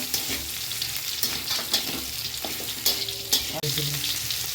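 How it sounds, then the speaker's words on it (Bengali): Fried pumpkin pieces are stirred into a cooked spice paste in a hot pan for a Bengali fish curry with pumpkin stalks. A steady sizzle runs under repeated scraping strokes of the spatula, close and continuous, with no talking. "এবার ভেজে রাখা কুমড়োগুলো দিয়ে দেবো, দিয়ে একটু নাড়বো চাড়বো বন্ধুরা"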